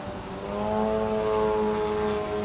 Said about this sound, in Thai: เป็นสนามฝึกเครื่องบินนะฮะเป็นเครื่องบินเล็ก